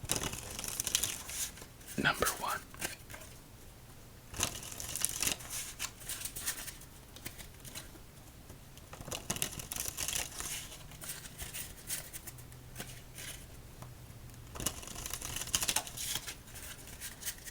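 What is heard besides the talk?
shuffling playing cards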